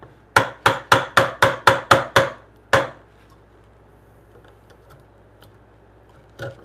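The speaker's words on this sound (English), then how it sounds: "I'm gonna take one chisel width from this top part here." Chisel struck with a mallet while chopping a blind mortise in wood in a home workshop: eight quick, evenly spaced sharp knocks, then a single later blow, close and crisp over quiet room tone.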